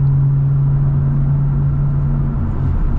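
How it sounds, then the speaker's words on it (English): Turbocharged 500hp BMW cruising on the road, a steady low engine drone with a constant hum and rushing wind noise throughout, no voices. "I just love listening to my turbos."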